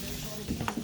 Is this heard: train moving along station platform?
no